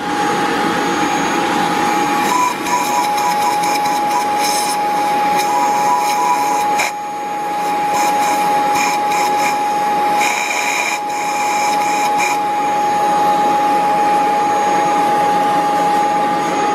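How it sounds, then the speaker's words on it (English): A vacuum cleaner whines steadily and loudly throughout, sucking carbon out of diesel injector wells, its pitch shifting slightly with brief dips as the nozzle moves. "get a hoover with an attachment on and try and suck as much of the carbon out as possible"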